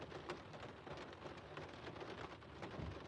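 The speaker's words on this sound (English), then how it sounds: "it's raining pretty good here today" Steady rain falling outside, a dense, continuous hiss with patter on surfaces, faint and distant throughout with no voices.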